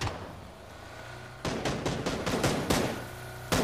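Rapid bursts of video game gunfire in a military shooter, a dense run of sharp cracks starting abruptly and continuing for a couple of seconds, then a final loud shot, close and loud over a low background hum.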